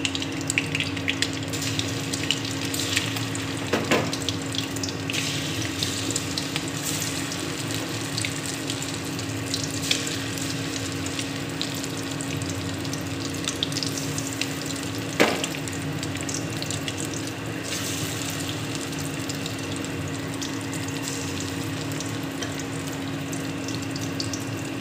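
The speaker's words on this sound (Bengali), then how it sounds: "বাদ বাকি চিকেনটা আমি ফ্রাই করে নেব।" Chicken pieces fry in a pan for butter garlic chicken, giving a steady, close, even hiss of sizzling oil that lasts throughout, broken by a couple of sharp clinks, with no talking.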